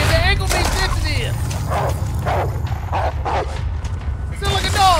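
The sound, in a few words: dog barking in Resident Evil 4, video game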